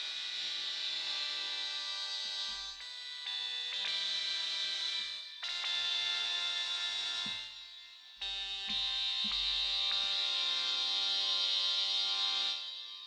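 A sustained, bright buzzing tone from the Nikaya wavetable and FM synth, its timbre shifting as the wavetable position changes, broken by brief gaps and small clicks from adjustments.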